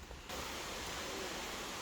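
Cataract Falls, a waterfall in the Great Smoky Mountains, roars as a steady, even wash of falling water that kicks in after a brief quieter moment and holds close and loud to the end.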